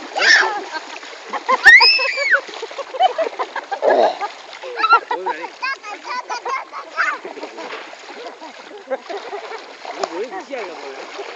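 Water splashes and sloshes close by as people swim, with irregular bursts of churning water under excited, overlapping talk.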